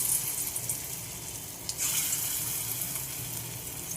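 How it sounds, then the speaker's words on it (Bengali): Beaten batter for small fritters frying in hot oil, a soft, steady sizzle with a faint low bubbling underneath and no talking. "এবার ভাজবো"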